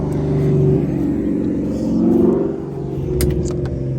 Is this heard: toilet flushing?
no